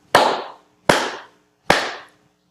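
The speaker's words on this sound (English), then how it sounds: "3 loud claps" Three loud, sharp hand claps, evenly spaced and each ringing out briefly in a quiet room, with no talking.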